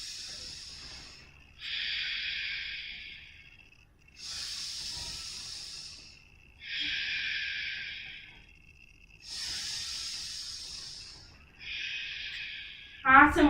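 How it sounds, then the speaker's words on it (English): Slow, deep breathing during a yoga pose, with long hissing inhales and exhales alternating in a steady rhythm, close and clear, with a brief sound at the end. "Continue to breathe."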